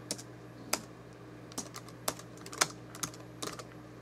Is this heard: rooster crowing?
no